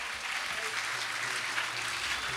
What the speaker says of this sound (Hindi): जोरदार तालियां बजाकर हमारे शिक्षा मंत्री जी का बहुमान करें